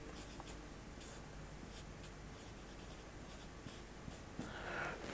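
Pen or marker writing out a trigonometry equation in a lesson, a steady close scratching and rubbing that runs without pause through the whole stretch with no voice over it.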